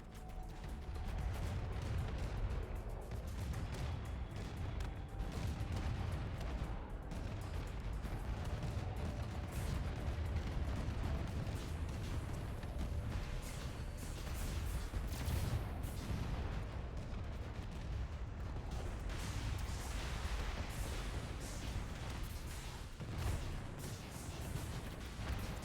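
Warden units in the space strategy game AI War 2 lay down an area bombardment, a continuous rumbling roll of artillery blasts and mechanical clatter sustained at even loudness for the whole stretch, with no voices.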